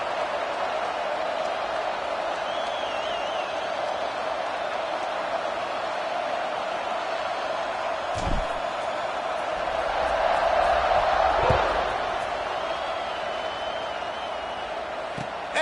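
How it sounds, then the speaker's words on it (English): Football stadium crowd at a college football playoff game, a steady broad roar of many voices filling the space, swelling slightly toward the end, with a few faint thumps. "this crowd is buzzing after that last score"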